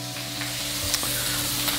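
Chicken frying in a pan on a barbecue cook gives a steady sizzle with a few sharp utensil clicks, heard from a short distance over a low constant hum.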